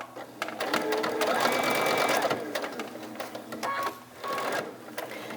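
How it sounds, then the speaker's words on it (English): A sewing machine runs steadily, stitching a quarter-inch seam on a small biscornu pillow, a close, continuous mechanical whirr with slight shifts in speed and a brief pause near the end. "now I'm going to stitch a 1/4 inch seam all the way down to that next mark"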